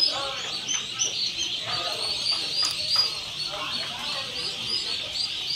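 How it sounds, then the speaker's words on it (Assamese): Guinea fowl chicks call continuously, a dense chorus of thin, high peeping and chirping that overlaps without pause, close by and fairly loud. "গিনি ফাউল মুৰ্গীৰ পোৱালি।"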